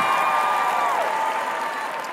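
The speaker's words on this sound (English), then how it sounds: "Promises, hold for applause." A live studio audience in Brooklyn applauds steadily, a brief even wash of clapping with a faint tone running through it.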